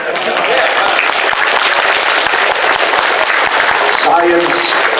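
An audience at a convention panel applauds in a loud, sustained burst of clapping, with voices talking over it near the end.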